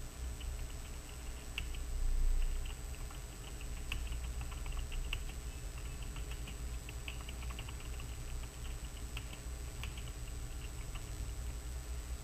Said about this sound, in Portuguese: Vamos abrir uma aspa dupla e vamos digitar uma mensagem.